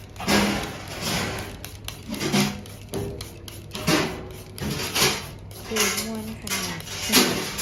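Dishes and pots clatter in a busy kitchen, irregular clanks and scrapes repeating throughout, with voices talking underneath.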